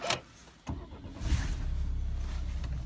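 A 2012 Peugeot 508 setting off on a test drive: a couple of sharp clunks, then the engine's low hum rises and settles into a steady rumble from inside the car.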